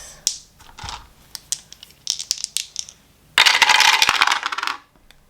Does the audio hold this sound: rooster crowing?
no